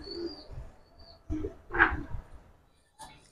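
Giribaz pigeons kept in a fancier's collection give soft, low cooing calls in a few separate bursts, close and fairly quiet, with light chirps and faint background noise between them.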